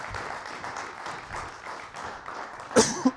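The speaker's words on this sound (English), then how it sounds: "Let's have a round of applause." An audience applauds at a family Christmas lecture presentation, a moderate, steady patter of clapping hands in a hall, ending with a few sharper louder claps.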